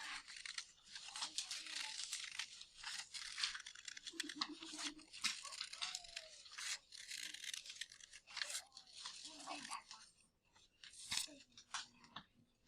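Scissors cut pink paper into three parts in a classroom math lesson: quiet, crisp snips and papery crinkles come in an irregular sequence at close range.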